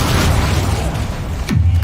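Bombarda explosion spell cast in the Hogwarts Legacy video game: a dense, steady rumbling wash, then a sudden deep boom with a sharp burst near the end.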